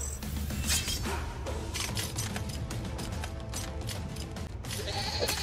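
A goat bleats in a video game amid a busy, cluttered soundscape of clattering and background music-like tones, moderately loud.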